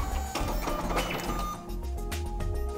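An ID card machine processes a card fed into its side, giving a steady mechanical whirring and rolling hum with light clicks and rattles, moderately close and alone.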